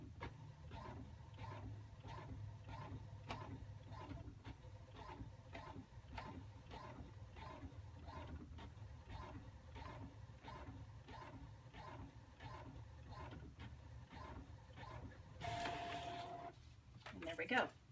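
An inkjet-style printer runs a picture for a quilt, its carriage ticking and whirring in a steady repetitive rhythm for most of the stretch, with a brief mechanical paper-feed burst near the end.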